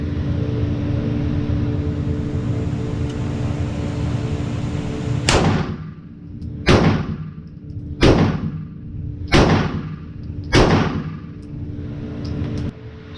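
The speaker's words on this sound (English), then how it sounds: "Now I got it set down to 10 yards. I'm gonna shoot the bottom left one and see how it does." Glock pistol fitted with an MCK brace firing at a target 10 yards out: five loud, sharp shots spaced about a second and a half apart, each ringing out briefly, after several seconds of steady low background noise.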